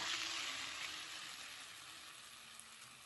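Onions and tomatoes with chicken frying in a pan for chicken thokku, a faint, even hiss that slowly fades, heard alone without voices.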